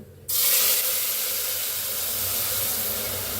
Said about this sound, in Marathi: पाणी ओतूया।